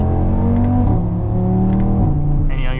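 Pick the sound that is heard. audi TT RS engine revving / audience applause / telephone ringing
audi TT RS engine revving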